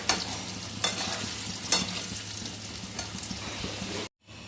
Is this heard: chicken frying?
yes